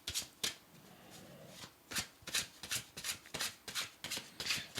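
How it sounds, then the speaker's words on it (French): A deck of oracle cards is riffled and bridged several times in quick, crisp bursts of fluttering paper, close up, with short pauses between shuffles and no voices. "Attendez, je les brasse bien, qu'elles soient bien mélangées."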